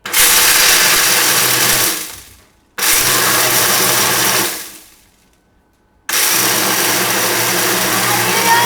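Kitchen blender grinding fresh lychees for sharbat: a loud motor whir in three bursts, each starting abruptly and winding down, with silent gaps between.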